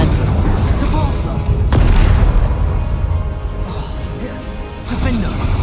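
The Confringo explosive spell in Hogwarts Legacy sets off dense, booming blasts and crackling debris in a continuous loud wash of game noise, with a sharp impact near the middle.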